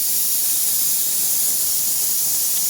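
Pressure cooker in a home kitchen releasing steam: a continuous, loud, even hiss fills the whole moment with no breaks and no talk.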